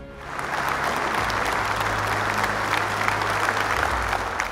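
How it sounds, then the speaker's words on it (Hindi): A quiz contestant at a national family Bible quiz gets loud, dense applause from the audience, a steady wash of many hands that rises quickly and holds evenly with no talking over it. "तो एक बार जोरदार तालियां हो जाए मिसेस फिलोमिना एंथनी के लिए।"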